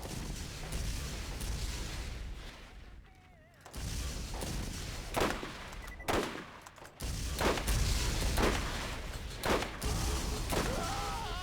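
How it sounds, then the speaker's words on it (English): Explosive shock weapon fire in the game Borderlands: repeated sharp blasts and crackling discharges hit every second or so over a dense, rumbling combat bed, with one brief lull partway through. "There's some dude just shooting explosive shock shit all over the damn place"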